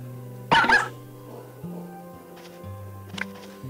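Puppy barks from a smartphone pet-raising game, a short burst of yapping near the start over a steady tonal game background with faint chimes later.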